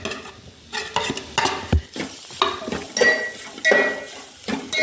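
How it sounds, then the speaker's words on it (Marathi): Spiced green pea kachori filling with gram flour and dried fenugreek being roasted in a pan, heard as loud, rhythmic scraping and stirring strokes over a light sizzle that continue without a break and with no talking. "सारणही 1-2 मिनिटं भाजून घ्या, म्हणजे त्यात मिक्स करून घेऊया."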